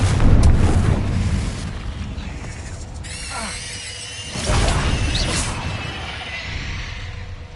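A fire-blast spell explodes in the Hogwarts Legacy video game, with loud booming bursts over a dense, rumbling battle mix and a few sharp mechanical clicks. The blasts recur across the clip.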